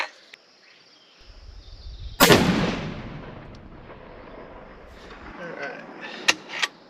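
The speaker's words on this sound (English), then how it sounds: "Clean the barrel, and I'm going to shoot." A single sharp, loud hunting rifle shot fired as a fouling shot outdoors, cracking suddenly and then decaying into a rolling echo, with someone speaking quietly afterward and insects faintly audible.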